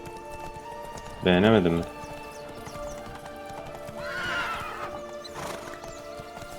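In the game The Witcher 3, a horse lets out a loud, close whinny over steady clip-clopping hooves, with game music underneath and people talking in Turkish.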